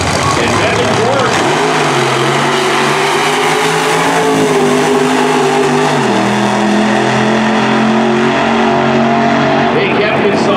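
A loud nitro funny car roars down the drag strip at the NHRA Rocky Mountain Nationals. Its engine rises and shifts in pitch, then falls away. An announcer's voice can be heard under the noise.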